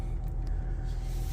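Low idling rumble of a Ram TRX pickup truck being pulled back into a parking spot, a steady close engine drone with no voices.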